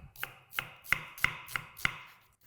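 Two onions chopped on a board with a knife, regular sharp blade strikes about three per second, close and clear with no talk.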